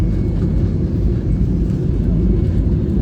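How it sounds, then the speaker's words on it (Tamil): Inside an airliner cabin on approach to Port Blair airport, a loud, steady low engine and airflow roar holds throughout, with faint speech beneath it. "ஸோ நம்ம லேண்டிங் ப்ரிப்பேர் ஆகிட்டோம் இப்போ லேண்டிங் ஆக போகுது"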